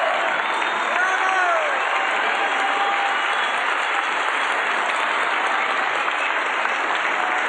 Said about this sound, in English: And they're saying, no, the applause is for you.